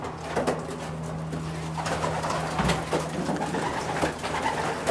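Racing pigeons coo in a loft, soft low repeated burbling calls from several birds close by, with faint shuffling and movement in the background.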